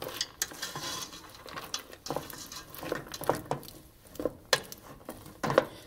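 Almonds stirred into hot cooking honey and sugar for Italian torrone: irregular scraping and knocking of a spoon through the thick, sticky mixture in a pot, with faint sizzling underneath, close and steady.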